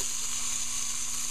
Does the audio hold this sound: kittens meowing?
no